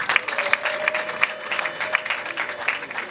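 Wedding guests in Rwanda clap loudly and steadily, a dense crowd of hands with sharp individual claps standing out, and a faint sustained tone beneath.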